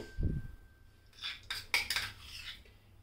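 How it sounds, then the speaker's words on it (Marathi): A metal spoon scrapes and clinks inside a hot kadai as ghee goes in, a few quiet, close scraping strokes over a faint background hum. "यात आता मी आधी 2 चमचे तूप घालते।"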